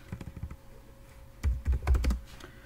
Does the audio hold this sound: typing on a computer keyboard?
yes